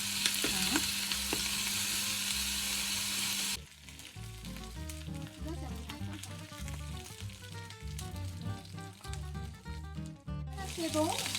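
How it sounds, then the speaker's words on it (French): Chicken pieces pre-cooking in a dry pan with no fat, browning for a Massaman chicken curry; a steady sizzle gives way to stirring and clattering of pieces against the pan, close and fairly loud, with some speech. "Je fais pré-cuire, juste que ça prenne un peu de couleur."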